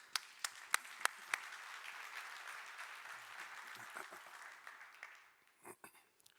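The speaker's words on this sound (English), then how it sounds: "So give yourselves a round of applause" A large conference audience at Autodesk University Middle East applauds, with a few sharp isolated claps at first, then a fainter, distant wash of clapping that dies away as voices begin.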